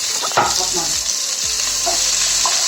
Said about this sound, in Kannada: ಕರ್ಬೇವು ಸೊಪ್ಪು ಹಾಕೊಳ್ತಾ ಇದ್ದೀನಿ, ಹಾಗೆ ಈರುಳ್ಳಿನ ಹಾಕೊಳ್ತಾ ಇದ್ದೀನಿ.